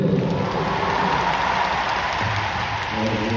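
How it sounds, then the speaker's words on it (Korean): Concert audience at a fan concert in Korea, a dense steady wash of applause and crowd noise filling the hall throughout, loud and continuous. "진짜 한번 그분들을 위해서 박수 한번 쳐주세요"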